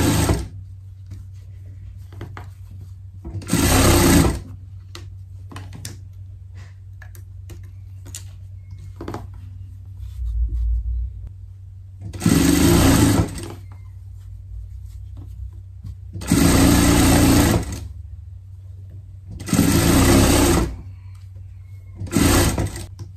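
Sewing machine stitching a safety seam on a Nordic-style coat, running in loud bursts of a second or so several times, with near-silent pauses between runs.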